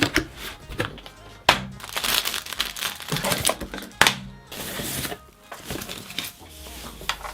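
Packaging of an AlphaWise window-cleaning robot crinkles and crackles in irregular bursts close by, with sharp snaps and rustles as the box is opened; a voice speaks in between.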